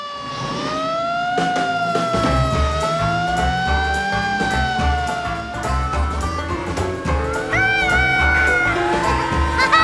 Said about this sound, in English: You want to get the siren, George?